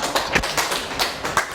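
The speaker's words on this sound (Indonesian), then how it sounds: "Baik, diberi tepuk tangan ya untuk" Classroom applause for a student group finishing an alternative-energy project, heard as a short burst of scattered claps and taps, fairly close and moderately loud, with no talking over it.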